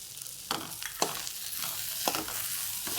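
Chopped vegetables with green peas sizzle steadily in a hot pan while a spoon stirs them, with several distinct scraping strokes standing out over the continuous frying hiss, heard close up with no talk.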